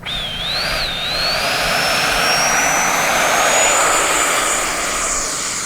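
A Freewing Yak-130 RC jet's ducted fan spools up into a steady, rising whine as it takes off, loud and close, the pitch climbing smoothly throughout.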